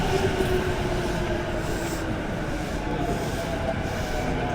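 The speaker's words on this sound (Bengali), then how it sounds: "স্টেশন আস্তে আস্তেই ট্রেন চলে এসছে" A train pulls into a station in Japan, its steady rumble and rail noise filling the platform at a constant, fairly loud level, with faint wheel squeal and clatter along the rails.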